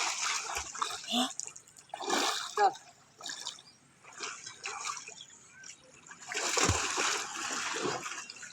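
A person thrashes in water about five to five and a half feet deep while trying to sink, making repeated close splashes and sloshing bursts with brief pauses between them.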